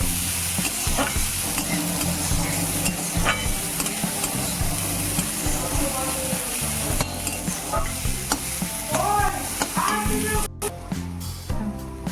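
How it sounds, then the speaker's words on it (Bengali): Chopped onion and garlic fry with a steady, close sizzle while a utensil stirs and scrapes the pan in uneven strokes, cooking the base for chicken soup; no one speaks. "পেঁয়াজ কুচিটাও দিয়ে দিল দিয়ে আমি এবার এটা একটু ভালোভাবে ভেজে নেব"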